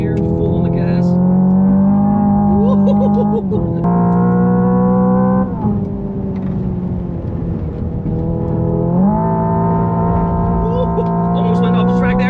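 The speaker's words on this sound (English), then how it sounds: "This is an EV that feels like a petrol engine car. It even has pops and bangs." The 650 hp Hyundai Ioniq 5 N electric car driven hard on a track gives off a loud synthetic engine tone that rises and drops through simulated gear shifts, with short pops between them and someone talking over it.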